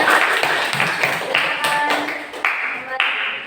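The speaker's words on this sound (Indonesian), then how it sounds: "Oke, bagus sekali kelompok 2, beri tepuk tangan." A classroom group claps briefly, several short, loud, irregular claps mixed with chatter and voices nearby.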